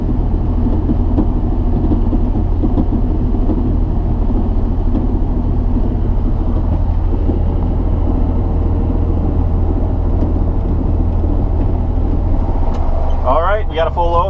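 A farm vehicle carrying a full load of manure drives toward a field, its engine a loud, steady, close rumble that continues throughout before a brief higher whine near the end.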